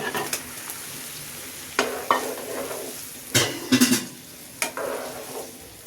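Egg korma with milk, green chillies and eggs cooks in a pan, a soft steady simmer and sizzle under scattered clinks and scrapes of a spoon stirring against the pan.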